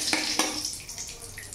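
Two bay leaves drop into hot oil, where a couple of sharp clinks give way to a soft, close sizzle that fades over a second or so.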